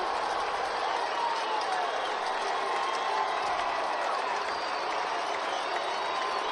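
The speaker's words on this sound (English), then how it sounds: "can't blame them for cheering that home run" Dodger fans fill a ballpark with a steady, loud roar of cheering after a Cody Bellinger home run in 2018, the crowd noise sustained and unbroken throughout.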